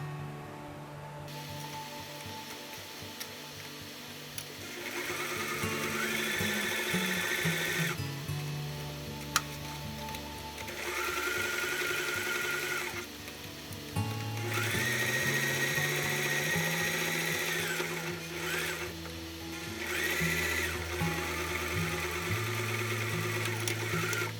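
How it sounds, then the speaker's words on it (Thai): A sewing machine runs in long continuous bursts, stitching fabric closed around a round drawstring makeup bag, with brief pauses between steady mechanical whirring runs and no talking. "แล้วก็จะนำตัวผ้านี้นะคะ มาเย็บทับปิดรอบแบบนี้เลยค่ะ"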